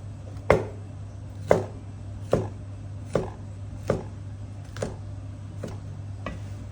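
A knife slices squid diagonally on a board in slow, evenly spaced strokes, about eight crisp cuts, close up over a steady low hum.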